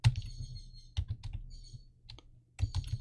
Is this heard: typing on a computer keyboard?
yes